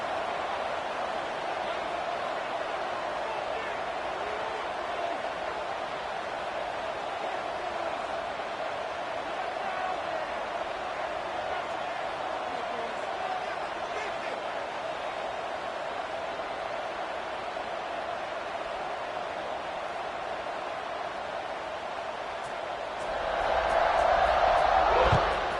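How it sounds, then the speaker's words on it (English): A stadium crowd at a UF versus Georgia Tech college football game keeps up a steady, distant roar and murmur, swelling louder near the end, with commentary voices over it. "this crowd is buzzing after that last score"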